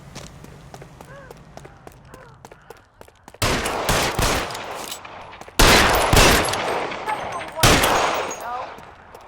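Bursts of gunfire from the video game L.A. Noire, starting with scattered shots and footsteps, then three loud volleys of rapid automatic fire around the middle and end, each ringing out sharply before trailing off.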